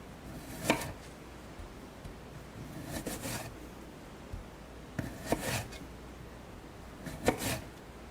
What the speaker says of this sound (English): I'm just finishing up chopping the radish